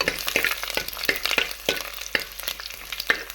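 Whole garlic cloves sautéing in a pan for fish curry give a steady close sizzle, broken by repeated scraping stir strokes at an uneven rhythm, with no voices.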